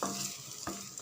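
Small onions sauté in a few spoons of oil in a pan, giving a soft, continuous sizzle with a scraping stir partway through, close and clear with no talking.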